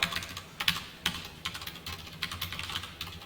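Quiet, close typing on a computer keyboard for an HTML and CSS lesson, with uneven bursts of clicking keys and no voice.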